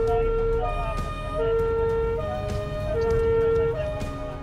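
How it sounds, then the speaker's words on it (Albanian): A police patrol car's siren wails in a repeating two-tone pattern, loud and close, sounding through a street during a movement-restriction patrol, with faint traffic underneath. "patrulla e policisë merr thirrjen për të patrulluar me sirena"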